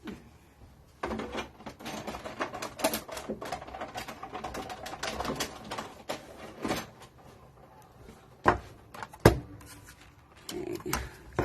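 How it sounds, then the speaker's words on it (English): A manual die cutting machine cranks a flat cutting plate through for a pop-up slider card, giving a run of uneven mechanical clicks, rattles and knocks at close range with a few sharper thumps toward the end. "I'm going to use the cleaner, flatter plate for this, so that when it runs through the machine, it's got a cleaner cut"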